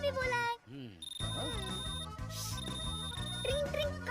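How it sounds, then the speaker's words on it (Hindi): A phone ringtone in a Hindi movie scene rings in repeated electronic bursts over a music bed, with voices speaking around it. "ट्रिंग ट्रिंग, कान फट रहा है। ये बकवास रिंगटोन है। तेरे बाप का फोन है, उठा।"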